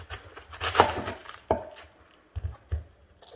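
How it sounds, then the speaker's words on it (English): A knife finely chopping cabbage on a board: a few separate, sharp cuts, close and moderately loud, with short pauses between strokes. "so now I'm going to finely chop cabbage."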